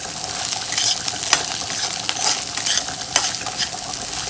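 Cauliflower egg curry fries with dry masala in a pan, a steady close sizzle broken by repeated scraping strokes of a stirring spoon, with no talk.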